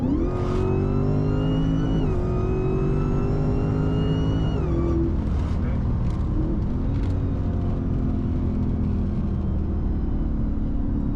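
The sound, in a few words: cammed Dodge Hellcat Charger engine accelerating and shifting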